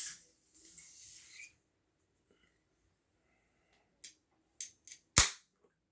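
A can of Guinness 0 non-alcoholic stout with a nitrogen widget is opened after being shaken: faint rustling and handling, a few small clicks, then one sharp, loud crack-and-hiss of the tab popping, close up.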